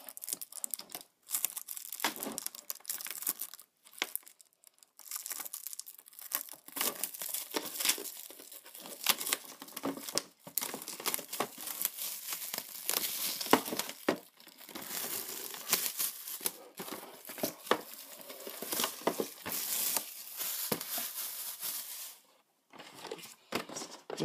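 A Pokémon Mega Charizard Y card box being opened by hand, close plastic and cardboard packaging crinkling and tearing in irregular bursts with brief pauses between them, no talking.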